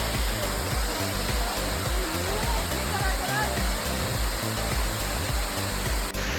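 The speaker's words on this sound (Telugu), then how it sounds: "మొత్తానికి వాటర్ ఫాల్ దగ్గరికి వచ్చాం." Talakona waterfall roaring as a steady, dense rush of falling water, loud and continuous, with faint voices underneath.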